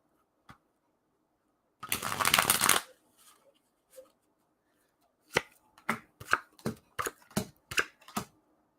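Playing cards are shuffled in a quick close riffle, then after a pause they are laid down one by one in a run of crisp, evenly spaced slaps on a table.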